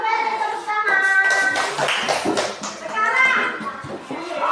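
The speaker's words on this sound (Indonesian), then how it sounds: "terima kasih sudah tepuk tangan" Children's clapping fills a classroom, a loud patter of many small hands mixed with kids' chatter and a teacher speaking over it throughout.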